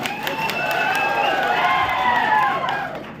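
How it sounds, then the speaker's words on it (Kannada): An audience claps steadily at an outdoor Ganeshotsava stage event in Heranjalu, a sustained wash of applause with faint cheering that fades toward the end. "ನೀವು ಎಂತಕ್ಕೆ ಚಪ್ಪಾಳೆ ಹೊಡೆದ್ರೆ"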